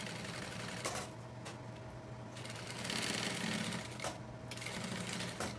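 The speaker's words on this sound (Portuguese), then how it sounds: "eu já vou costurar aqui embaixo" A sewing machine stitching a backpack seam, running in a fast, steady whirring rattle with brief pauses and restarts, close and loud with no talk.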